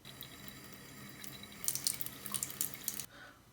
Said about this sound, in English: You want to make sure that you're just swishing it in water to get it off naturally.